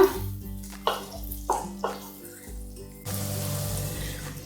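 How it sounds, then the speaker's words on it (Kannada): Hot water poured into rice rava upma (akki tari uppitu) with vegetables in a pot, splashing pours in short bursts followed by a steadier gush, close and clear. "ನೀರನ್ನ ಬಿಸಿ ಮಾಡಿಬಿಟ್ಟು ಹಾಕೊಳ್ತಾ ಇದ್ದೀನಿ."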